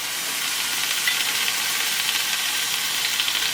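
Carrots and potatoes sizzle in a pan just after water is poured in, giving a loud, continuous, close hiss that holds steady throughout.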